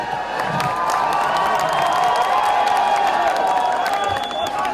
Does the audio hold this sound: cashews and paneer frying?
no